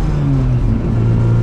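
A 1965 Austin Mini Cooper S engine revs steadily while driving, loud and close, its rising and falling harmonics droning without pause through the whole stretch.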